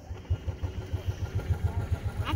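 Low, steady engine putter of a golf cart driving along at moderate speed, with a pulsing rhythm that continues throughout and no talking.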